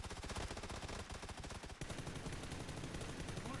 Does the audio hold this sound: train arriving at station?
no